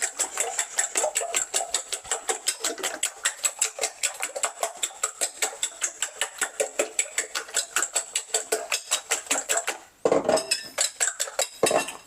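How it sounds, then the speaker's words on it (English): Eggs being whisked in a bowl for an omelette, a fast, steady metallic clinking that repeats evenly and close up, followed by a brief louder clatter near the end. "just start whisking everything together, making one nice"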